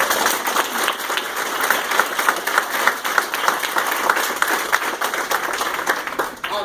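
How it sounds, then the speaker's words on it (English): An audience at a school presentation breaks into sustained applause, a dense wash of many hands clapping at close range that holds steady and then trails off near the end. "We need to give her a round of applause"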